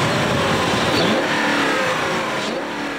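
A BMW X5 with its 4.4-litre V8 accelerating, producing a loud, steady engine roar with a rising note, close by and continuous with no talk.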